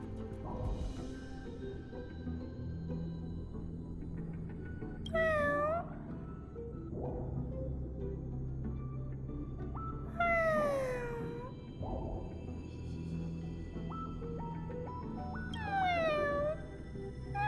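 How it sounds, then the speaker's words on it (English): A cat in the video game Honkai: Star Rail meows three times, each a clear, rising-and-falling call spaced a few seconds apart over steady game music. "That sure looks like a cat."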